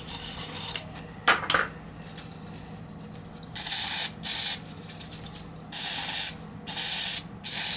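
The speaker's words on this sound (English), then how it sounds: "Little carb cleaner." Bursts of carb cleaner sprayed from an aerosol can while servicing an oil burner, several hissing blasts of about a second each with short gaps between, close and fairly loud, no talking.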